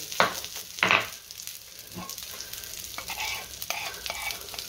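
Prawns sizzle on a wooden-based sizzler tray that has been heated as hot as possible, with a steady crackling hiss and a few sharp louder spits near the start.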